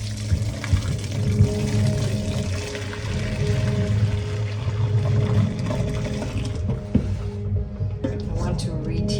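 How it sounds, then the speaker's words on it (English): Beans with their liquid, for Boston baked beans, are poured into a pan with loud, close sloshing and gurgling for several seconds, thinning out into smaller splashes and drips at the end. "I got a pan, and I'm going to put the beans in here."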